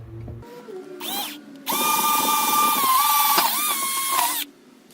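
A hand drill with a 2.5 mm bit whirs steadily for a few seconds, its motor whine rising as the bit bites, after a couple of brief spin-ups.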